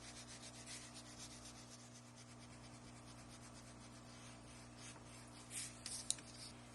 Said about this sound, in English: now let's erase our pencil lines